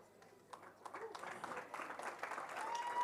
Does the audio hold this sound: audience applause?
yes